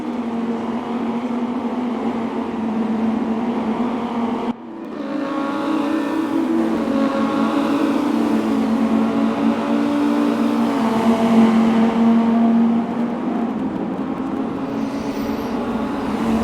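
Race car engines in a sim racing endurance event at Hockenheim drone steadily and loudly, with a brief dip before the pitch rises and shifts through gears under sustained acceleration.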